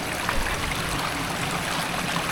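A small river stream flows steadily, a continuous close rush of water with no pauses and no voices.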